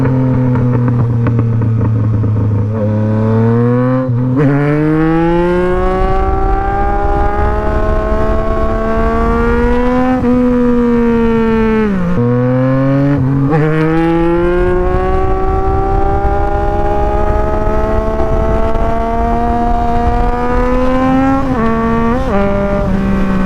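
A Yamaha MT-09 motorcycle engine revs up and down repeatedly during wheelies, loud and close, with rising and falling pitch sweeps as the throttle opens and eases off, and no talking.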